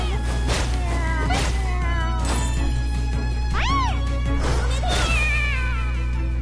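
Cartoon cats meow and yowl in the video game Caravan Stories, several short cries and one sweeping wail over a steady bed of game music, loud and close.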